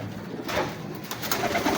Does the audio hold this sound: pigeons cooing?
yes